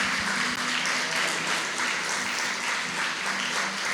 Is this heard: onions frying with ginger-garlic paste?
no